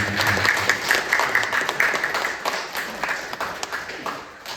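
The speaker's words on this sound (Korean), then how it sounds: "우리 하나님께 다시 한번 영광의 박수 한번 다시 한번 드리겠습니다" A church congregation at a Christmas service breaks into a round of applause, close and lively at first, then thinning and fading toward the end.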